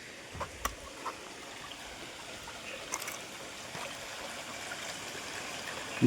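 Soft, steady trickle of spring water seeping down from a hillside, with faint splashes, a quiet continuous flow outdoors in the Konkan with no voices.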